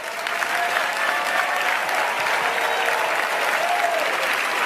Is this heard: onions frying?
no